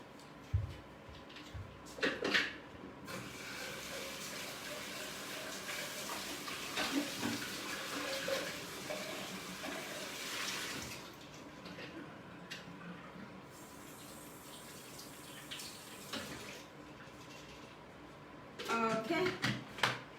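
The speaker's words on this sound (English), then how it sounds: "I have to rinse this." Tap water runs steadily into a sink while something is rinsed under it, a broad wash of splashing with brief louder bursts near the start and end; no speech is heard over it.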